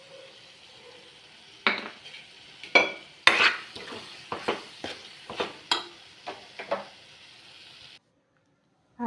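Garam masala is stirred into frying roasted eggplant oro in a pan, a series of sharp spoon scrapes and clinks over a light sizzle, ending in a short silence before a final knock.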